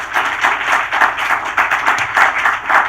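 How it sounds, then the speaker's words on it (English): Audience applause for the team at a sub-Saharan African university innovation showcase: steady, dense clapping from a sizable crowd that swells and dips in waves across the whole stretch, with no voices over it. "Can we give the whole team a round of applause?"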